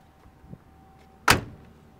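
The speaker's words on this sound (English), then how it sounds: "Doors open and close nice." A car door on a 1970 Chevrolet Nova SS with a 396 L78 engine shuts once with a sharp, loud thud, preceded by a faint click of the latch opening.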